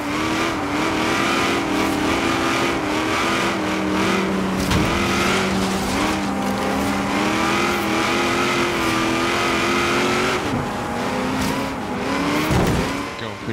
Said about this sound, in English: you can just hear my engine just like constantly up and down revving